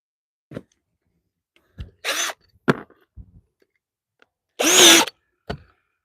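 Power drill pre-drilling screw holes through shed lattice siding with a countersunk bit, heard as two longer whirring bursts plus several short blips and clicks, close and fairly loud, no talking.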